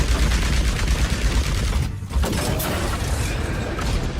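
A character firing rapidly from turret mode in Overwatch, a loud, dense, continuous barrage of gunfire with a brief dip midway before the shooting resumes.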